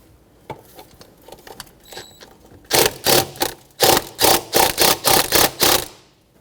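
Intake hose clamps being loosened on a 2014-2019 Toyota Corolla 1.8L with a ratchet or screwdriver, a rapid series of close, loud clicking strokes after a few quieter taps.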